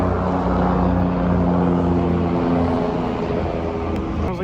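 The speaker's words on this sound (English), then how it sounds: "There's a helicopter." A helicopter flies overhead at an outdoor group gathering, a loud, steady rotor and engine drone with a low pulsing thump that holds for several seconds and eases slightly at the end.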